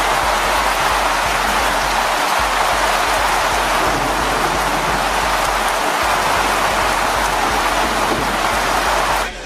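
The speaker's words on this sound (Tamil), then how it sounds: "அப்சர்வேட்டரி, மூஞ்சிக்கல், ஏரிச்சாலை, செண்பகனூர் உள்ளிட்ட பகுதிகளில் இடியுடன் கூடிய மிதமான மழை பெய்தது." Moderate rain falls over Kodaikanal, a near, steady, dense hiss of drops that stays even and loud for the whole stretch, with no voices.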